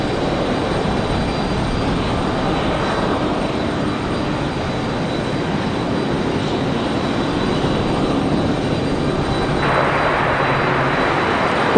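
An airplane taking off from runway 23 right at Raleigh-Durham International Airport gives a continuous jet-engine roar that builds slightly and grows brighter toward the end.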